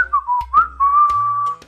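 A man whistles a lilting tune while strolling casually, a clear solo melody with short gliding phrases and one long held note, close and alone.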